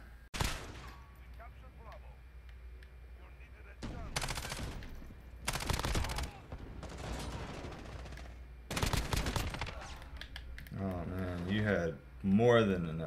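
Bursts of Ram-7 assault rifle fire in Modern Warfare, several separate volleys of rapid shots spread through the stretch with quieter gaps between them, while a player's voice talks over the gameplay.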